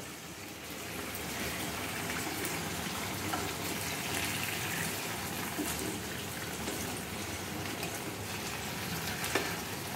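Chuno fish paturi sizzles and fries steadily in a pan, a continuous close crackling hiss with small pops and no speech.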